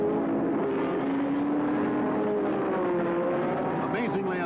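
Racing cars roar continuously as they accelerate away at the 1966 12 Hours of Sebring, engines whining at rising pitch, loud and sustained with crowd-like noise underneath.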